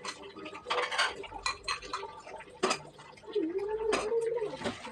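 Cups and plates clink and knock together as they are washed by hand in a home kitchen, with scattered close clatters and a running tap or squeak in the background.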